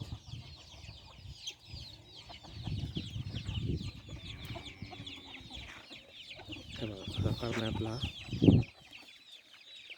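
Desi country chickens on a poultry farm clucking and cackling nearby in scattered bursts, with a short bit of human speech and some louder squawks toward the end.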